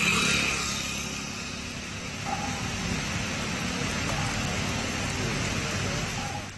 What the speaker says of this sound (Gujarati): તાપી જિલ્લામાં વરસાદનું આગમન થઈ ગયું છે